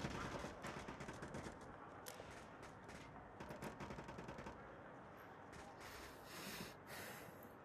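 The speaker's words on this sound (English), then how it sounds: "I hear bullets." Distant gunfire crackles in the Onward VR video game, with rapid bursts of shots and scattered single reports spread throughout at low volume.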